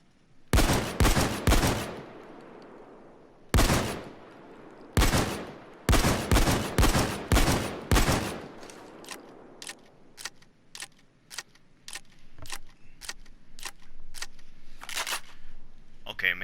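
Locomotive 12G shotgun from Payday 2 fired in loud, sharp blasts, first in quick bursts, then a steady rapid run of shots at an even pace, with fainter mechanical clicks between them.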